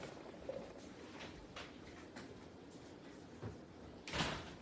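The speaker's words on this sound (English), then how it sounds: "Somebody went out the door." A door opens and closes somewhere in a house as someone leaves, heard as faint, distant muffled thumps and rattles, ending with a louder closing thud.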